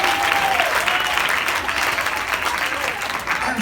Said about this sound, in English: Somebody clap your hands and praise God for what's